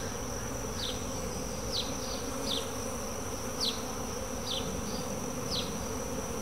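A steady buzzing drone of many honey bees in a hive, a laying worker colony, with occasional brief higher chirps rising above the constant hum.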